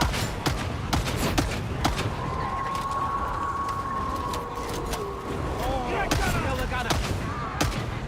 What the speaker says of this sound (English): God, I forgot how much suppression this bolt pistol does.